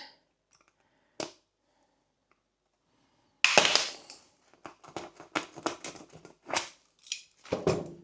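A sudden burst of crunching and crackling as a knife saws into a stiff plastic bottle, followed by a run of sharp snips and cracks, close and fairly loud.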